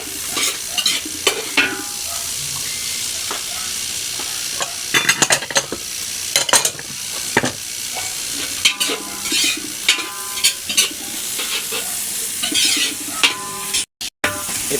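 Beef Yang Chow fried rice stir-fries in a pan, with a spatula scraping and clattering in irregular bursts over a steady sizzle.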